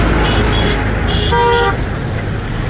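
Vehicles rumble across a swaying bridge over the Shakkar river, a loud close roar of passing traffic with a couple of short horn toots in the middle.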